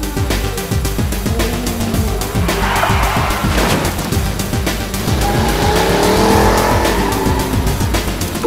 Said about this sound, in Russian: Что это за огроменная машина?